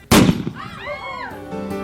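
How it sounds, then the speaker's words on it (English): A single loud gunshot cracks sharply at an Old West gunfighter show, then its echo rings and fades, with a faint tonal ringing trailing behind. "Of course, there is gunfire."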